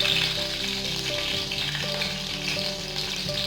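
Green chillies spitting and crackling in hot oil with popped mustard seeds and cumin, a loud, steady sizzle running the whole time with no voices.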